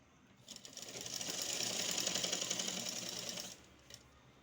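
A sewing machine runs a seam along elastic, a soft rapid whirring chatter that starts, holds steady for about three seconds and stops, with a short extra tick just after.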